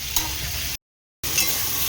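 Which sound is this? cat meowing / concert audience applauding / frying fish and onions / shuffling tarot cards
frying fish and onions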